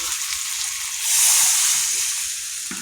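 Potatoes and vegetables sizzle in a hot pan while being stir-fried, a steady close hiss that swells louder midway, with faint stirring scrapes underneath.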